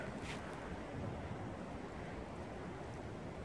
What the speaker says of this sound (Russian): Ветер, да, сильный такой, ветер шумит.